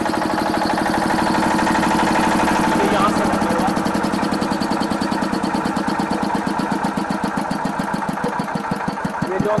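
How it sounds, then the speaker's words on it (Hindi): A Chadha 10 kVA generator with a 14 hp engine runs close by, its rapid, even chugging pulses loud and continuous, with the beat growing more distinct toward the end. "ये जो हमारा जनरेटर है ये चड्डा सुनील ब्रांड का होगा 10 kV में, और 14 हॉर्स पावर का इसमें इंजन लगा होगा"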